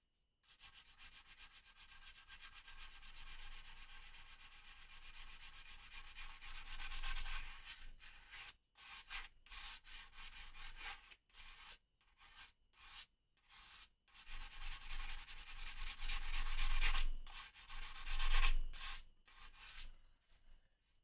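A guitar body being sanded by hand, steady rasping strokes in long runs broken by short pauses, close and fairly loud with no talking.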